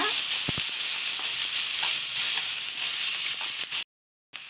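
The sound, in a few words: tomato and green chillies sautéing in a pan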